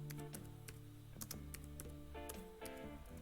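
Typing on a computer keyboard, a quick run of light key clicks in uneven bursts, faint and close with no talk.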